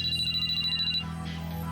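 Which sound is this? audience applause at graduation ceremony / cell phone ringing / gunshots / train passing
cell phone ringing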